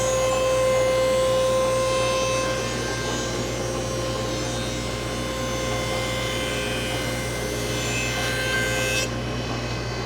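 A thickness planer cuts a wood board with a steady, droning machine hum and a rough cutting texture, fairly loud and close, ending in a sudden drop as the board clears.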